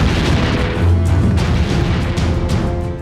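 Russian artillery and self-propelled guns fire near the Kursk border, heavy booming blasts rolling over a continuous low rumble, with no voices.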